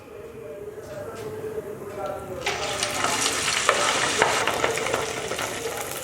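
Rice vada batter dropped into hot oil for deep-frying: a soft bubbling that swells into a loud, close hissing sizzle midway and stays strong, with a voice talking over it.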